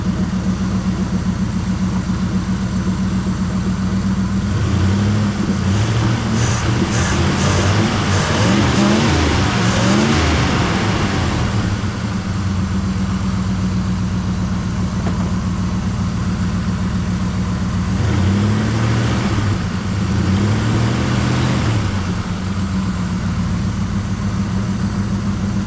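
A 1973 Chevrolet Malibu engine, left sitting in a yard for 25 years, runs steadily and loud close by, rising in two bursts of hard revving with a smooth idle in between and after.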